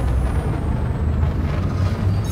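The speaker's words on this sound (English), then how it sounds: "Frameship drive charging." Frame shift drive charging up in the Elite Dangerous space game, a loud, steady low rumbling drone with a faint high whine drifting downward, continuous throughout with no speech.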